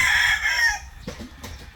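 A six-month-old Black Kelso over White Choco gamecock stag crows loudly and close by, one long crow followed by a few softer clucks.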